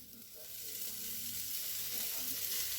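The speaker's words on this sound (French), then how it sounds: "Et vous rajoutez vos lardons." Lardons hit a frying pan of browning potatoes, and a soft, steady sizzle builds and holds as they fry, with no talking.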